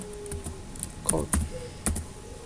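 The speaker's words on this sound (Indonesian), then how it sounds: "Yang terlebih dahulu saya harus mengetik code" Computer keyboard being typed on while writing C++ code, a sparse run of soft, close key clicks with a few sharper taps, over quiet room noise.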